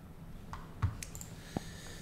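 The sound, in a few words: computer mouse clicking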